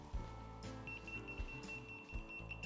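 A hidden-camera and bug detector gives a steady electronic beep repeating rapidly at a high pitch, fairly faint, over background room noise and low thumps.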